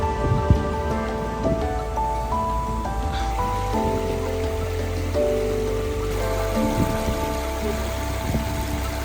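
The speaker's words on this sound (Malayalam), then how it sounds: "ഇവിടെ മനോഹരമായ ഒരു വാട്ടർ ഫൗണ്ടനൊക്കെ ആയിട്ട് ഒരു പാർക്കും ഇവര് ക്രിയേറ്റ് ചെയ്തിട്ടുണ്ട്." A water fountain in a London park among tall buildings and trees splashes in a continuous, even patter, with steady tonal notes sounding in the background and no talking.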